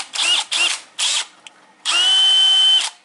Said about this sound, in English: I use it on the end of the drill.